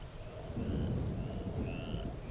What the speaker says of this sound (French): le bruit de la pluie et des grenouilles là, c'est assez fort par rapport à tout le reste